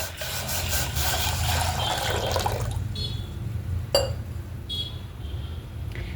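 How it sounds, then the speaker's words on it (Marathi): Water pours steadily into a metal pressure cooker for a few seconds, then stops, followed by a light clink and faint rustling. "कुकर गरम करायला ठेवलेलं आहे त्यात पाणी टाकून घ्यायचं आहे"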